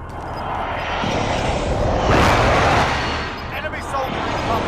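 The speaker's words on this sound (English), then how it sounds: "Be advised, friendly position airstrike inbound." Video game airstrike aircraft roars overhead in a broad, rushing swell that builds, peaks loudly midway and fades, with some sharp bursts in the busy background.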